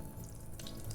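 Rinse water trickles and splashes briefly out of a bowl of rice as it is drained, a short soft pour with faint drips.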